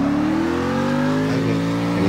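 Car engine revving hard during a drift in the CarX Drift Racing 2 video game, a steady loud rising whine with a climbing pitch across about two seconds, heard alone.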